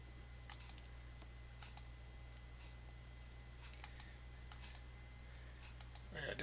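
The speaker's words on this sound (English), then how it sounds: "If I click on this here" Soft, sharp clicks sound from a computer mouse during an algebra lesson on a computer, scattered irregularly and faint over a quiet background hum.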